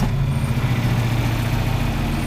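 A tractor engine idles nearby after baling hay, with its PTO shut off, giving a steady, low, throbbing rumble that holds even throughout.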